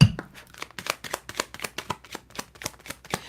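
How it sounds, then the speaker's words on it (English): Oracle cards shuffled by hand during a live love reading give a quick, even run of crisp papery flicks and snaps, close and clear, with no voice over them. "So I'm just about to shuffle up."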